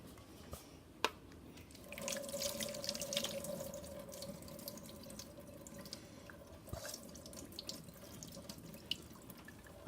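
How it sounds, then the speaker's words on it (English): Cold tap water runs into a kitchen sink in a steady, faint wash, with scattered drips and small clinks over a quiet room. "I'll run it under some cold water"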